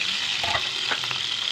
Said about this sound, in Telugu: ఆయిల్ హీట్ అయ్యాక గ్రీన్ చిల్లీ ఇది పడుతుందండి